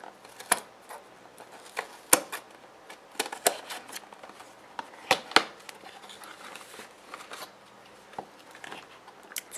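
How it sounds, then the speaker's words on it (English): Scissors snip and cut through plastic packaging around anime figure boxes, giving sharp irregular clicks and crinkles close by, with quieter rustling between the cuts. "Let me get some scissors."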